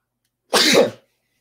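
A single sneeze bursts out in a quiet university seminar room: one short, loud, abrupt blast with silence on either side.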